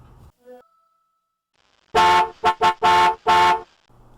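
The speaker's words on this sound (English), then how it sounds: "A car horn honked in front of Colleen's house at exactly 7:30." A car horn honking in front of a house in a horror audiobook scene: four or five loud, close honks in quick succession, some short and some held, after a near-silent pause.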